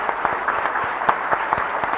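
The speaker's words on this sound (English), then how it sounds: "Please join me in applauding the esteemed guest for the contribution." Brief audience applause for guests at a conference panel discussion, a thin, moderately loud patter of scattered claps with distinct individual hand strikes.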